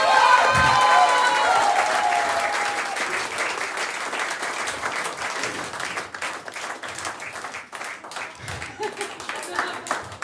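Stand-up comedy crowd-work audience applauding and cheering, loud at first and then thinning gradually into scattered claps.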